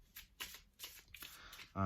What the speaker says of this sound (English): It shuffles really well, honestly. I love the way this shuffles.